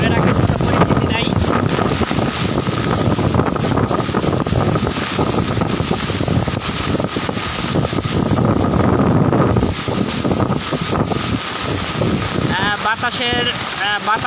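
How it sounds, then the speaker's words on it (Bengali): Strong wind blows steadily during a flood tide amid rain, a loud, continuous rushing roar buffeting the microphone throughout, with someone talking over it. "বৃষ্টির সাথে বাতাসের গতি অনেকটা বেড়ে গেছে।"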